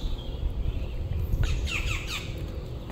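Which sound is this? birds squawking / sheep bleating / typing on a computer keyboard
birds squawking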